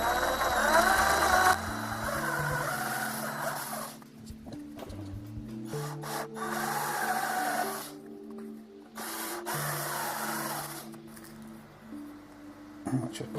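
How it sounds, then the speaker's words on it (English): A cordless drill whirs in bursts, its motor pitch rising and falling with the trigger as it bores through material, close and fairly loud. "a good cordless drill with a good variable speed trigger"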